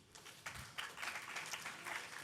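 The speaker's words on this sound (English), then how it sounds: "let's give a massive round of applause to Conscious NFT" An audience at a hackathon closing ceremony in New York applauds, a scattered, moderately faint patter of many hands clapping continuously for a couple of seconds in a hall.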